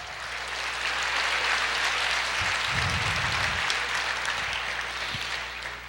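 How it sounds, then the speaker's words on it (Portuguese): A church congregation claps together in sustained, dense applause that holds steady throughout, filling the room with a continuous wash of hand claps and no speech over it. "Aplauda o Senhor"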